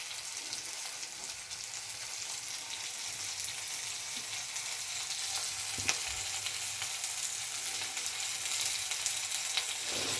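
Spices sauté for a traditional gravy with chilli and coriander powder, giving a continuous close sizzle and crackle with occasional faint stirring scrapes, and no voices.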